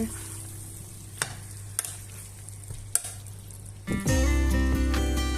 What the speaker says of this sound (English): So we mix it all together.